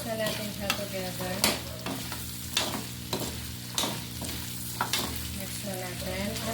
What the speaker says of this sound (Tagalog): Mix na natin siya together.